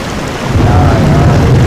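Heavy rain pours down in the Truck Simulator Ultimate video game, a steady, dense downpour that stays loud and constant throughout with no talking.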